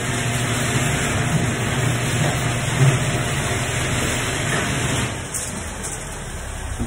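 A car engine runs outside near a backyard barbecue setup, a steady low rumble with broadband noise holding for several seconds before easing slightly toward the end, with no talk over it.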